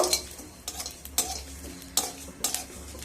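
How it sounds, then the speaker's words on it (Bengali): Panch phoron and fennel seeds fry in a pan while a utensil stirs them, giving sharp metallic scrapes and clinks every half second or so over a faint low sizzle. "এবার মশলাগুলোকে খুব ভালোভাবে ভেজে নেব"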